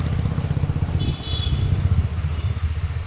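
Road traffic rumbles steadily nearby, with motorbikes and cars passing in a continuous low drone and a faint brief horn toot partway through.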